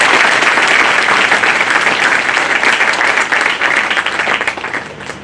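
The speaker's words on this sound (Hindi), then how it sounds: "उनके लिए जोरदार तालियों से हम चाहेंगे स्वागत करें" Loud, dense applause from an audience welcomes a speaker at a formal gathering of lawyers, sustained throughout and tapering slightly toward the end.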